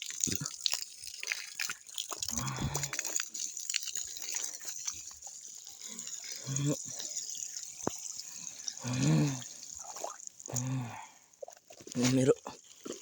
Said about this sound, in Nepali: पानी खेर गइरहेछ